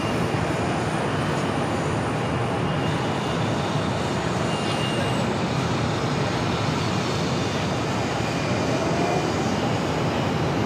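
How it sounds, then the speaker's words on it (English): A Delta A220 airliner touching down on the runway, heard as a steady, loud broadband roar of engines and rushing air that holds at an even level throughout, with no voices. "We have a Delta A220 touching down."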